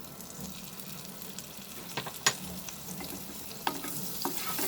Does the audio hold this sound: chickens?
no